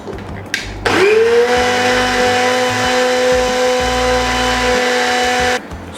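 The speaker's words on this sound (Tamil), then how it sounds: "இதை நம்ம ஒரு பிளெண்டரில் போட்டு பிளெண்ட் பண்ணி எடுத்துக்க போகிறோம்." A blender purées blanched tomatoes, a loud steady motor whine that starts after a second, holds evenly for about four and a half seconds, then cuts off.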